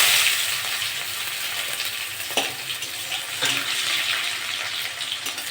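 Onion sliced into hot mustard oil already spiced with panch phoron and dried red chilli, sizzling steadily in a pan with a few sharp spits and crackles, close and continuous throughout.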